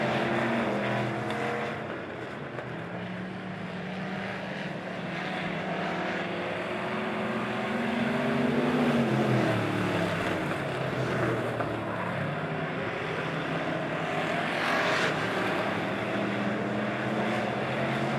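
POWRi super stock race cars roar around Lebanon Midway Speedway, a dense, steady engine drone with rising and falling pitch sweeps as cars pass close, continuous and loud throughout.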